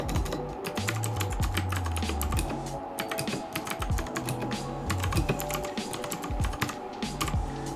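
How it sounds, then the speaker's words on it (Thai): Fast, continuous typing on a computer keyboard resting behind a wrist rest pad at a desk, with dense clicking keystrokes and occasional heavier key thumps, close and alone without talk. "ส่วนแผ่นรองคีย์บอร์ดเดี๋ยวผมมาลอง เข้า โปรแกรมพิมพ์ดูนะครับ"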